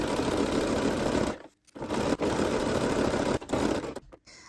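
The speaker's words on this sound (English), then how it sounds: "we're now going to stitch a 1 centimetre seam or 1/2 inch seam, whichever you prefer to work with, all the way down the side" A sewing machine stitches a straight seam in fabric, running loud and close in steady bursts with short pauses between runs.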